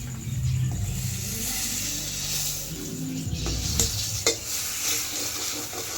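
Food sizzles and crackles in a pan set over a wood fire, a continuous close hiss with low rumbling and a few sharp clicks and knocks, with no one talking.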